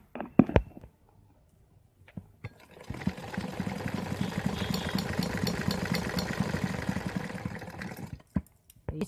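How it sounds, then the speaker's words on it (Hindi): A sewing machine running a straight stitch along a double katori garment, a steady close mechanical whir with rapid needle rhythm lasting several seconds, framed by a few sharp handling clicks before and after. "और इसको सीधी सिलाई लगाएंगे।"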